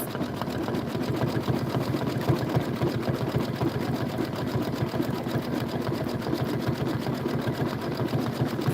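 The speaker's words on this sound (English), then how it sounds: "whenever we're doing some stitching, like right now" An embroidery sewing machine stitches a Kimberbell bunny-themed mini quilt with a rapid, even, continuous mechanical chatter, close and alone, without pause.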